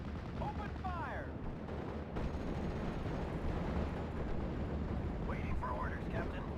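Gunfire and artillery rumble in a World War II Normandy battle in Steel Division: Normandy 44, a dense continuous roar of shots and blasts with brief radio-style voices over it.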